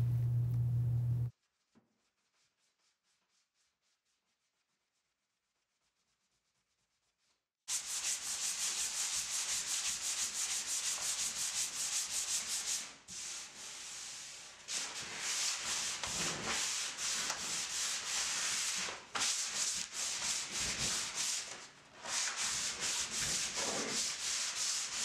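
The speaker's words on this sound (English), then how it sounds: "I'm going to be going in with a 400 grit sandpaper and a sanding block to make sure our surface is nice and smooth." Close, rhythmic rubbing of 400 grit sandpaper on a sanding block across a wooden Art Deco dresser, steady back-and-forth strokes with brief pauses, after a short quiet start.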